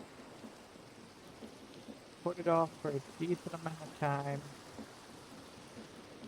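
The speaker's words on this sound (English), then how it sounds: "let's sleep this rain away" Steady rain hiss with faint rumbling thunder in the video game Minecraft, running continuously under someone talking through the middle of the clip.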